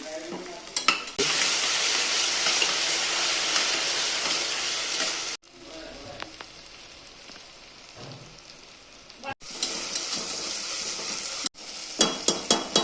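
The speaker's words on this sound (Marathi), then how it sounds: "आता हे चांगले सोनेरी होईपर्यंत मी परतवत राहते" Onions frying in a pan for garlic chicken curry, stirred until golden, make a strong crackling sizzle in several sections separated by short breaks, with clinks of the spoon against the pan and no talking.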